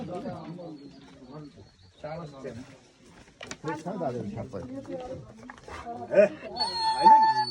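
A dog at an animal health camp gives a few short barks and whines mixed in among people talking nearby, the calls rising louder toward the end.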